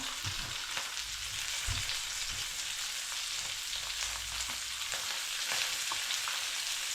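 Baguio beans fry in a hot pan with a steady, fairly quiet hiss and crackle throughout, broken by occasional soft stirring knocks.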